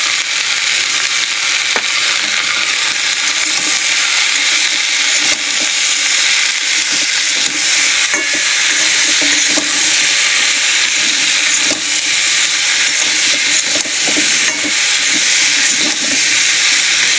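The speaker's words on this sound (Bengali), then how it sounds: "মাছটা একটু ভালো করে নুন হলুদের সঙ্গে ভাজা ভাজা করে নেবেন।" Fish sizzling in a hot pan with salt and turmeric, a steady, loud frying hiss with small crackles running throughout, no voices.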